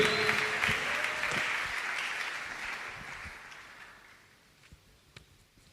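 Applause from a church congregation, a dense wash of many hands clapping that starts full and gradually fades away over several seconds, with a few scattered louder claps near the end.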